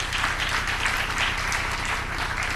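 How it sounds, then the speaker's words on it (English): Steady, dense applause from a conference audience at an annual gathering, thanking the speakers; continuous clapping fills the whole stretch at a fairly constant level with no voices over it. "Our speakers, can we please give them a round of applause?"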